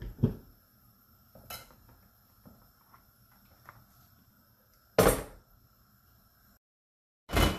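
A metal lid is set onto a cooking pot of simmering pakbet, a few sharp clanks and clatters, close and fairly loud, separated by quiet stretches with faint kitchen background.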